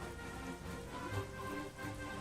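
Rain falls in the Romance of the Three Kingdoms X video game as a faint, steady hiss that runs unbroken throughout, soft and distant, with no talking.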